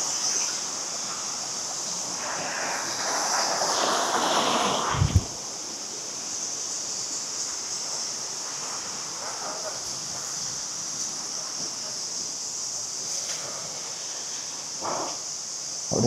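Water pours continuously at Sambalaru Falls in the Kurangani Hills near Theni, a steady broad rushing wash throughout, with a brief knock and some nearby movement partway through.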